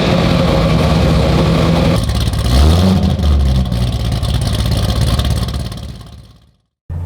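A 2010 Chevrolet Corvette, 36,511 miles, pulling away and accelerating hard, its loud engine roaring close and rising through revs, a brief lift and shift midway, then dropping suddenly to silence before resuming.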